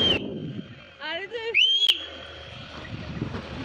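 A whistle blown at a hilltop echo point outdoors gives a bright, piercing tone with a short warbling trill. Windy outdoor noise and voices surround it.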